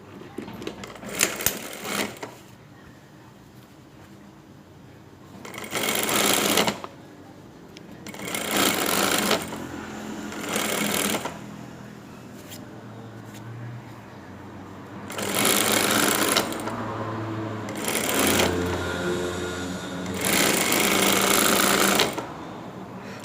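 A sewing machine stitches a trouser seam during garment alteration, running in loud bursts of a few seconds each, separated by pauses, close up with a soft voice talking in the gaps.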